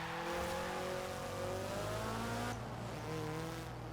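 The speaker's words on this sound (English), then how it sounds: "It sounds the same, but now it has a supercharger whine." Supercharged 1989 Toyota MR2 in Forza Horizon 4 revs under constant engine drone, its pitch rising through the gears with a whine on top and a gear change partway through, loud and continuous.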